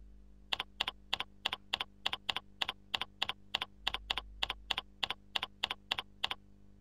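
Fingers type an email address on a computer keyboard in a steady, even run of close, crisp keystrokes, with no voices.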